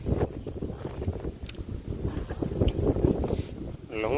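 Steady wind rushes and buffets the microphone outdoors on a farm among trees and sugarcane fields. A low, rumbling gust noise runs throughout the clip, and a voice speaks faintly underneath.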